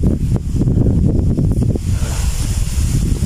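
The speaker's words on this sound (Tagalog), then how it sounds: "Napakalakas po ng hangin" Strong wind roars across an outdoor microphone at night, a loud continuous rumbling buffet with gusty surges that never lets up.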